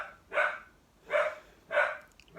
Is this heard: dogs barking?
yes